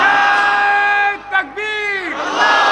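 At an Islamic religious sermon, a large crowd loudly chants "Subhanallah" in unison. The sustained massed voices dip briefly before swelling again.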